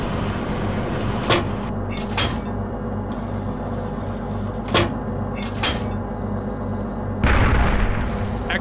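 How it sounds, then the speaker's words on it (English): A tank's main cannon fires in the Arma 2 military video game, several sharp booms breaking through a steady rumbling engine drone, with a heavier burst near the end. "Use the main cannon to destroy them."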